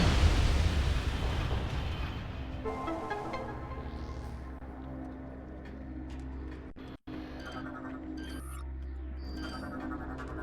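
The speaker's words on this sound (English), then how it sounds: "Space Pirate Cannon base has been completely destroyed, beyond repair." Space Pirate cannon base exploding in Metroid Prime 3, a loud, deep blast that rumbles and fades into a long, low droning decay with scattered debris crackles.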